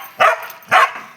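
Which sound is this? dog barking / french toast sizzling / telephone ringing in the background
dog barking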